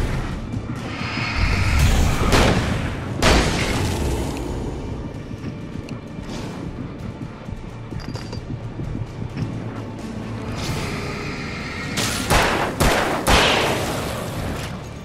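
Rifle or shotgun gunfire in the Alan Wake video game, several loud booming blasts spaced irregularly, with rumbling echoes and game ambience between shots.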